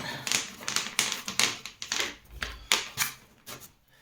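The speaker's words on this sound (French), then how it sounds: "je mélange maintenant les cartes majeures, les cartes mineures" Tarot cards, major and minor arcana, shuffled by hand: a quick run of crisp papery riffles and taps, close and alone, in an uneven rhythm of about a dozen bursts.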